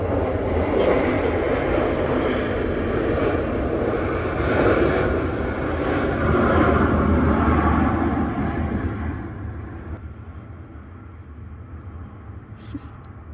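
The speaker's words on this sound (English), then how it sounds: "Look at the plane now." A plane passes overhead with a loud, broad engine roar that swells and then fades over several seconds, steady and dominant throughout.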